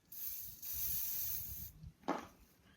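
Starting fluid hisses from an aerosol can into an old lawn mower engine in a steady spray lasting over a second, followed by a short second burst.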